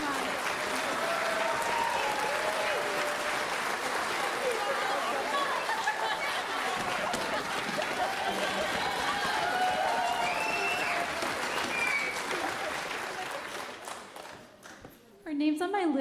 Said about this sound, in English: Give a big, big, big all around applause.